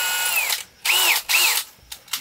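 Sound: drilling holes in viking boat planks

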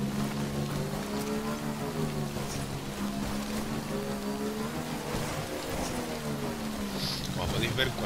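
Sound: rain falling in the video game Death Stranding

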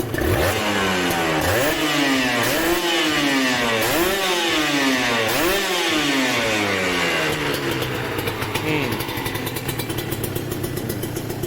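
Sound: motorcycle engine revving, Serpico 150 SE or NSR 150 SP

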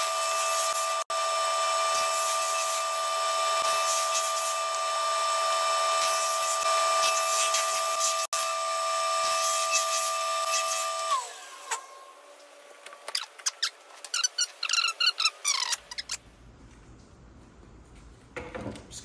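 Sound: cutting 1/16 inch maple veneer into shorter strips

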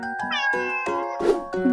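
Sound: cat meowing

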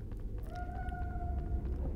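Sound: kitten meowing in Harry Potter Sorcerer's Stone video game

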